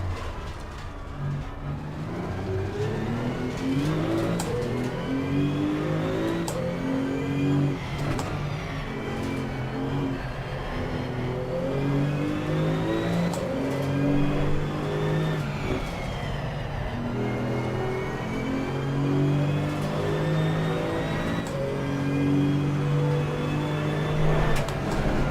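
Porsche 991 GT2 CS race car on the Laguna Seca circuit in Assetto Corsa Competizione, engine droning and revving through repeated gear shifts, loud and continuous from onboard, with no talk.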